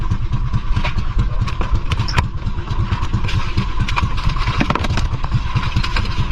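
A fishing boat's engine runs steadily and loudly throughout, a continuous low rumble with a rapid chugging pulse and occasional clanks, heard with no talk.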